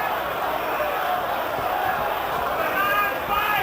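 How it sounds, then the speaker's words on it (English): A boxing arena crowd chants rhythmically in support of Evander Holyfield during his fight with Michael Moorer, a steady roar of many voices with a commentator talking over it. "Crowd chanting, holy, holy, holy, trying to lift Evander up"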